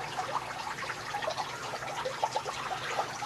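Gas from a 12-volt homemade hydrogen generator prototype bubbles up through a tube into a glass of liquid, making a continuous fizzing trickle with scattered small pops and drips, steady and close.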